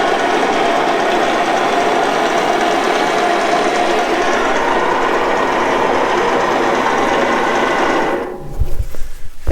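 Farm machine drive motor running dry and still leaking oil, a loud, steady mechanical whir with a fast rattling, sewing-machine-like drone that holds for several seconds before stopping abruptly into a few rough knocks.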